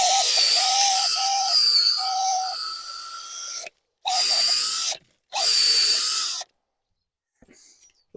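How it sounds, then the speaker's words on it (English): An auger bores into allotment soil with a loud, steady high whine for several seconds, then cuts out and restarts in two shorter bursts before stopping, close up with no voices. "there's nothing to say I can't use an auger"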